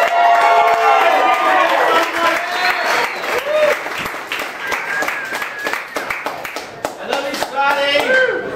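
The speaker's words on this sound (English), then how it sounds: "still getting applause at open mic for comedians" Audience applause at an open mic comedy night greeting a comedian on stage, steady clapping from a small crowd that thins out over several seconds, with some cheering and talk mixed in.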